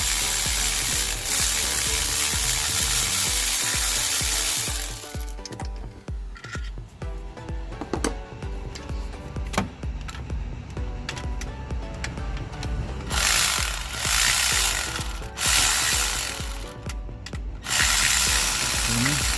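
A ratchet wrench clicks in rapid bursts while loosening a 14mm bolt on a Kia Bongo 3 truck, loud and close, with pauses and clanks of metal between runs of ratcheting.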